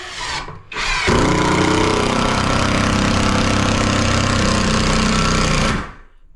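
An inexpensive power drill drives decking screws into wood, its motor whining loud and steady for about five seconds after a brief start-and-stop, close to the mic with no talk.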